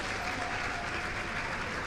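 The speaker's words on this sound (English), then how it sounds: "Please keep clapping till she gets here." Sustained applause fills a conference hall, a crowd clapping evenly and loudly without letup.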